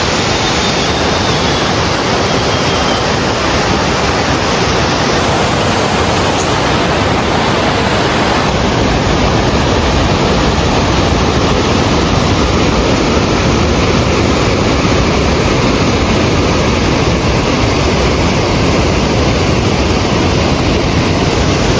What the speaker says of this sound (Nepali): बाटोमा हिँड्दा यस्तो बवाल दामी झर्ना देख्थ्यो